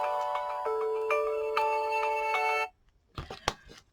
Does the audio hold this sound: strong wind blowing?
no